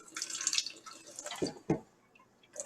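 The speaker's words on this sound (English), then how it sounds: "I'm going to put this down the drain a little bit" Water tipped down a kitchen sink drain while rinsing canned salmon, a few close splashy bursts and drips at irregular intervals, fairly quiet and with no talking.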